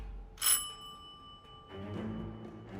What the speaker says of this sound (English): Ring doorbell.